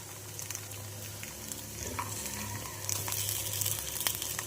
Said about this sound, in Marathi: तर अशाच पद्धतीने आपण सर्व अप्पे पलटून घेऊया।